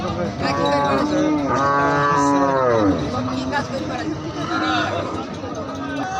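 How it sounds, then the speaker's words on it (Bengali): A large cow moos loudly and close by at the Bamondi cattle market in Meherpur, one long drawn-out call followed by a shorter one, with people talking and market babble throughout. "এটা এখানে একটা বড় গাভী আছে"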